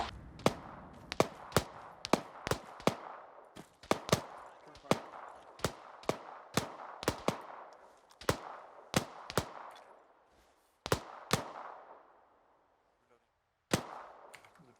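Sharp gunshots crack out one after another at an uneven pace, some in quick pairs, each with a short decaying tail, loud and close with a brief lull near the end.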